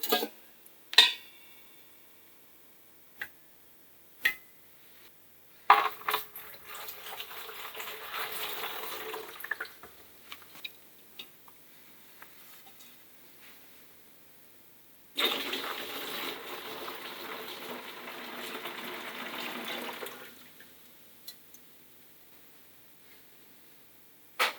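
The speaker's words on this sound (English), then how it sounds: "And now I'm going to top it up with some more water." Tap water runs into a recycled 30-litre KeyKeg being made into a beer fermenter for a ginger brew, in two sustained pours separated by quieter handling clatter and a few sharp knocks.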